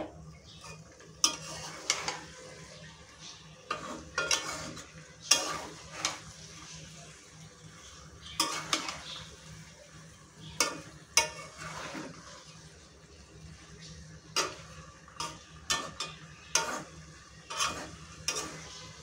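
Raw mango pieces are stirred in hot oil in a pan for a sweet, sour and spicy pickle with jaggery; a utensil scrapes and clacks in irregular bursts over a soft sizzle, with no talking.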